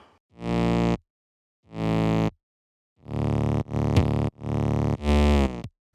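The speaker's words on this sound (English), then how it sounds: "And then the next sound is actually the 808 or like the sub bass." Deep 808 sub bass notes from the 808 Gods library, several punchy distorted hits in a rhythmic pattern, two separated blasts followed by a tighter run of four, loud and alone.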